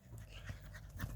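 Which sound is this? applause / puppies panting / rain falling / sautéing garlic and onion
puppies panting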